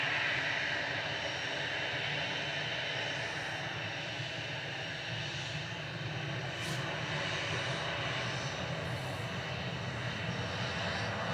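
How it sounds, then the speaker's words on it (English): An EasyJet Airbus A319 departs runway 23 left at Manchester Airport for Milan, its jet engines giving a steady, moderately distant rumbling roar that holds even throughout, with no talk. "Departing on 23 left is EasyJet 19852 Milan, OE LKD."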